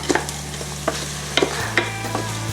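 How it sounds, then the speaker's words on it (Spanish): Rice toasting in melted butter for a mushroom risotto, with a soft steady sizzle broken by several sharp scraping taps as the grains are stirred around the pan. "nosotros ahora vamos a incorporar también el arroz y vamos a dejar que se vaya mantecando con la mantequilla"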